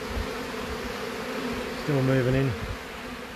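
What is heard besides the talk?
bees flying around during wall cut-out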